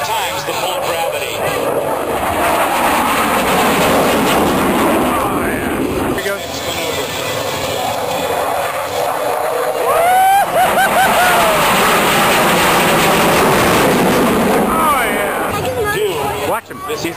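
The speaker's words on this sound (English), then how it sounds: "He's going to pull the stick back and hit the afterburner, I think. In the Boeing FA-18 Hornets." A Boeing F/A-18 Hornet jet at the 2010 Capital City Air Show, going to afterburner, gives a loud, sustained roar that surges and shifts in pitch as it passes, with excited voices talking over it.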